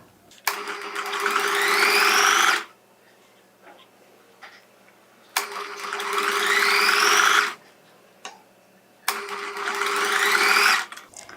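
A sewing machine stitches a line along evenly folded fabric to attach lace, running in three loud, sustained bursts of about two seconds each, separated by short quiet pauses.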